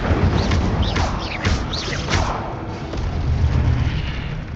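In Hogwarts Legacy, the Incendio fire spell bursts out loudly in a roaring, crackling blast, with sharp whooshing flares layered over continuous rumbling game noise.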